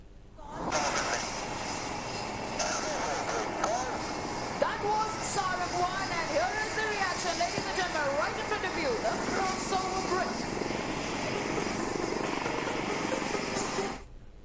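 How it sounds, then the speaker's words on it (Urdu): An LCA Tejas light combat jet flies overhead, producing a broad sustained roar that swells and holds steady while voices talk underneath. "انہوں نے ہلکا لڑاکا جیٹ طیارہ اڑا کر مسرت ظاہر کی۔"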